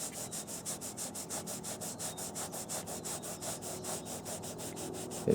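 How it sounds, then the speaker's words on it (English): A cloth dampened with lacquer thinner is rubbed back and forth over the plastic seat cover of a 2002 XR100 motorcycle, a fast, even, rhythmic swishing close up with no talking. "I've got some lacquer thinner on my cloth, and if I just rub it really lightly"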